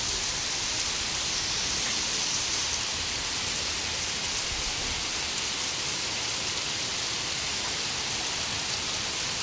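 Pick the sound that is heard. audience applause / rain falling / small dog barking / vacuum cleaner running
rain falling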